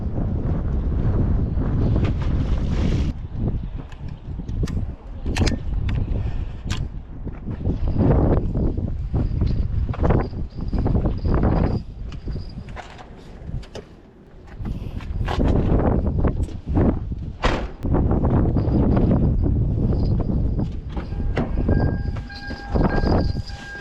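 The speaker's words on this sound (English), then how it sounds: "Wind's picking up too" Strong wind blows along the California Aqueduct, roaring and buffeting the microphone almost without pause, with gusts swelling and easing over a low rumbling bed and no voices.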